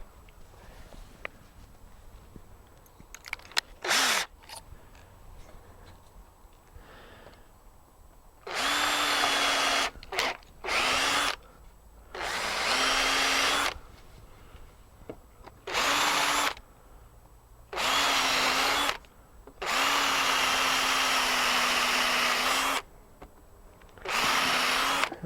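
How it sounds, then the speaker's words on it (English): A power drill whirs in repeated bursts of several seconds each, biting into wood, with quiet pauses and small handling knocks between runs. "And my top bearer, again, drill it, pre-drill."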